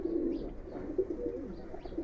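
A Giribaz breeder cock pigeon coos softly nearby, low rounded throaty notes rising and falling in a short quiet phrase.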